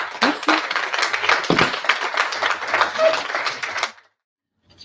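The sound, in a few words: audience applause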